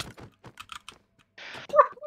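Computer keyboard keys being typed during a Minecraft battle royale game, several sharp taps in an irregular burst, followed by a brief louder thunk.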